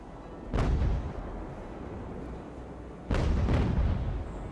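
Two heavy booming cannon shots about two and a half seconds apart ring out in a video game sea battle, each a broad low blast that lingers over steady background rumble.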